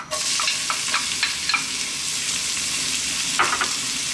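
Onions frying in olive oil in a skillet over medium heat give a loud, close sizzle, broken by a clatter as they drop in at the start and by the occasional stirring scrape.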